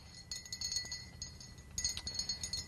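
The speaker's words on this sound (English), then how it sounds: "let's go ahead and take the spoon and stir it up." A spoon stirring hot apple cider with cinnamon schnapps in a glass gives two bursts of bright, close metallic clinks against the glass over a quiet background.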